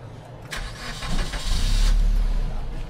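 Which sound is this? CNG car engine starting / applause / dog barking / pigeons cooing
CNG car engine starting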